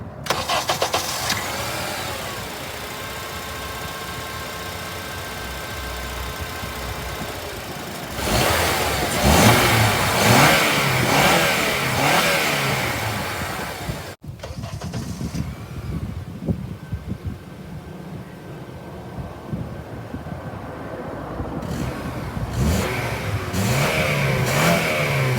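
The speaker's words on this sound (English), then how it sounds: "Let me show you guys what it sounds like." A 2004 Honda Element EX AWD engine cranks and starts, settles into a steady idle, then revs up loudly several times in close succession, recorded nearby without talk.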